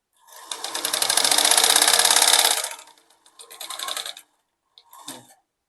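A sewing machine runs a back stitch on a kurti in a steady, close run of about two and a half seconds. Two shorter bursts follow after brief pauses, the last one very short.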